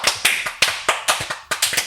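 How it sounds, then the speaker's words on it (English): Sharp hand claps ring out in an irregular run of about eight, loud and close with no one talking. "We missed your clapping, G."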